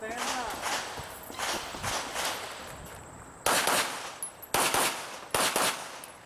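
Pistol shots ring out at an IDPA shooting match, with several sharp reports in quick pairs toward the end following quieter shuffling and movement, while someone talks over the action.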